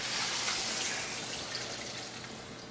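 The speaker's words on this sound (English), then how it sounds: "Now what we want to do is add the cooking sauce. Stir it up a little bit" Cooking sauce is poured into a pan and stirred, a continuous liquid splashing and sizzling hiss, fairly faint and close, easing slightly toward the end.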